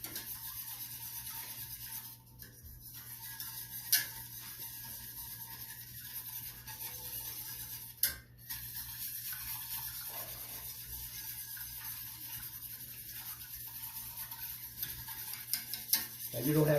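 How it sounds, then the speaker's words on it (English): A spoon scrapes and swirls through brown sugar melting in a pot for butter brickle ice cream, soft intermittent stirring and faint sizzling under a steady kitchen hum. "you want to stir this until all the sugar melts and it becomes frothy"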